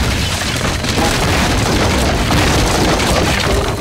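A fire bursting into life in the horror video game Layers of Fear after a painting breaks, a loud, dense roar of rumbling and crackling that fills the whole clip without letting up.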